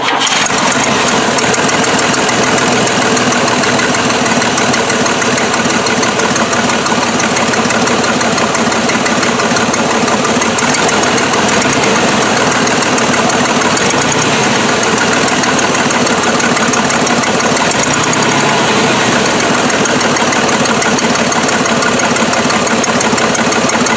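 An old truck engine runs after being put back together, a loud, steady rumble with a rough knocking texture that holds unbroken for the full stretch.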